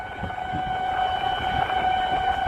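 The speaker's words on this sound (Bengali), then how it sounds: "আমি আজ রয়েছি সেই ট্রেনে" Onboard a broad gauge train running between Amghata and Krishnanagar, wheels rumble and clatter steadily with a sustained tonal whine from the carriage, loud and continuous.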